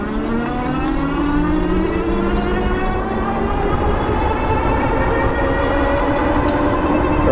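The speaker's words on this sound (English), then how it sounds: "we're just gonna take it away on the throttle" A Monday Motorbikes Anza 750S electric bike pulls away on the throttle. Its motor whine climbs steadily in pitch under constant rushing wind noise, loud and close throughout.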